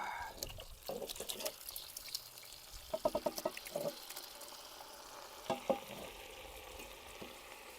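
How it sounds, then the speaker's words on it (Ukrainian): Mushrooms poured into a pot, giving a faint sizzle with scattered drips and soft stirring clatter that come in short bursts, quiet and close. "Виливаємо наші грибочки сюди."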